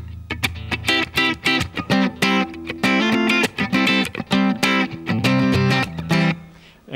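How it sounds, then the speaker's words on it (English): An electric guitar plays rhythmic parts built from inner voicings and triads, with choppy, muted strums and short chord stabs in a funky, syncopated pattern, close and fairly loud with no talking. "I can use inner voicings and triads and things like that, and I can come up with guitar parts that sound like this."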